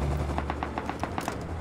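Gunfire trades back and forth in the survival video game Rust, a rapid, evenly spaced burst of about ten automatic shots at moderate distance over a low background hum.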